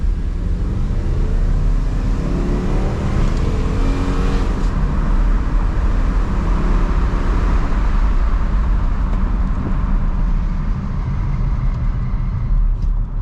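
A 2006 Dodge Ram 1500 truck with fuel pump trouble, its engine running rough: a steady, loud, coarse low rumble that continues for about thirteen seconds without clear revving.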